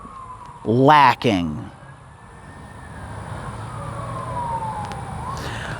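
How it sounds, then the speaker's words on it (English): A police car siren passes down a street, its faint wailing tone gliding up and down behind a short burst of nearby talk at the start, then lingering at a distance. "a cop car would come by right now as we're discussing serious things and set off the crazy dogs down the street"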